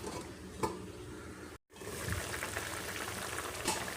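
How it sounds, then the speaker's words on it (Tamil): A pot of tamarind broth for poricha kuzhambu bubbles and simmers steadily, a soft continuous hiss of boiling liquid with occasional faint clinks, no voices. "அஞ்சாறு நிமிஷம் நல்லா கொதிச்சிருச்சு"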